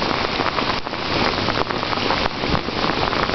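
Steady heavy rain pours onto a soaked road outdoors, a dense continuous hiss of drops close by with no letup and no voices.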